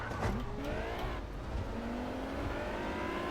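Ferrari race car in the driving game Test Drive Unlimited, a steady loud engine drone with rising gear-by-gear revs and the whine of other cars close by, continuous throughout.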